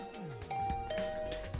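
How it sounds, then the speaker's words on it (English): Doorbell chime at a student's room door in the game The Hundred Line: Last Defence Academy, two clear ringing tones over a soft music bed. "I rang the doorbell to TSUBASA's room."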